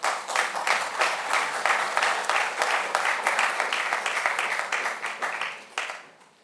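An audience at a university awards ceremony applauds loudly and continuously, a dense, close wash of clapping that fades away in the final second.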